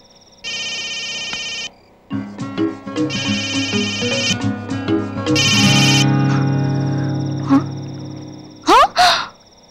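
A phone ringtone sounds in a Kannada film scene, playing repeated bright electronic tone bursts over background music and ending with a couple of sharp sweeping tones.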